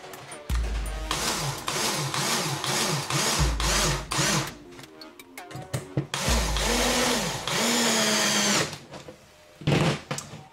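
A power driver tightens the screws that hold a GFI unit into its electrical box, whirring in several loud, close bursts of varying pitch with short gaps between them.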